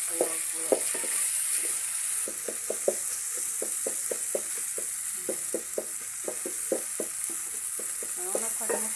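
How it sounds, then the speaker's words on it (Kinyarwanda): Tomato sauce with onions and green peppers fries in a pan, a steady sizzle under rapid, rhythmic scraping of a spoon stirring close up. "Ubu ngubu tugiye gukurikizaho gushyiramo isosi y'inyanya igizwe n'ibitunguru na puwavuro."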